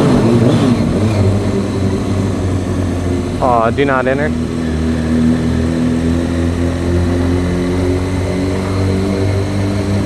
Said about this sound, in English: Exhaust sound in a tunnel makes me feel like really excited.